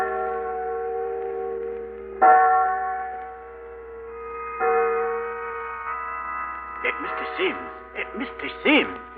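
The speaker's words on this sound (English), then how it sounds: "Listen, there go church bells." Church bells ring on a Sunday in a 1938 radio drama, sounding several slow, sustained strikes that overlap and hum, before voices come in near the end.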